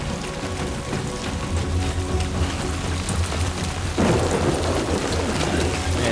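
Steady heavy rain with rolling thunder in the video game Death Stranding 2, the downpour swelling louder partway through and continuing without pause.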